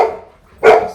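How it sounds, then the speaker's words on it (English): Two short, sharp barks from excited pet dogs, one at the start and one near the end, loud and close with a brief pause between them. "Crazy dogs."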